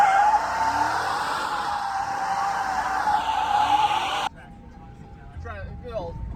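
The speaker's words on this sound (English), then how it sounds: "All right, Josh, try a burnout, will you?" A truck does a tire burnout, the engine roaring steadily with a sustained tire squeal for about four seconds before cutting off abruptly, followed by quieter background noise.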